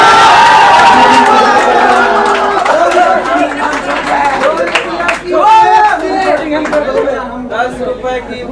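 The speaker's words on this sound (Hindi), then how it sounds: "तो प्लीज एक जोरदार तालियों के साथ शशि का स्वागत करें।" A crowd at a Teachers Day stand-up comedy show cheers and claps, loud and close, with shouting voices and chatter throughout the applause.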